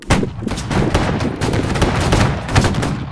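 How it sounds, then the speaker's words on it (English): A musket volley fired on command in a Roblox Marque of War battle: a dense, ragged crackle of many gunshots going off together and rolling on for about three seconds, loud and close, with no talking. "So everyone, if you may, please prepare, ready, and fire."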